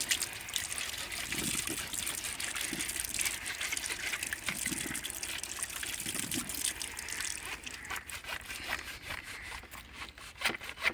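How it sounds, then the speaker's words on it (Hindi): Water running and splashing through the large pipe of a milking machine as it is scrubbed clean inside with a brush, a continuous close trickling rush that turns into quicker rhythmic scrubbing strokes near the end. "इसको अच्छे तरीके से आप लोगों ने अंदर से वॉश करना है, ताकि जमा हुआ दूध"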